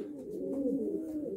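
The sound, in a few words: pigeon cooing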